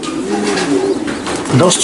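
Racing pigeons cooing close by, low throaty rolling coos repeated over about two seconds while a person talks over them.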